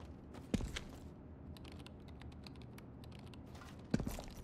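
Keyboard typing in Homefront: The Revolution, a short burst of clicking keys near the start and another near the end, quiet and close over low background hum.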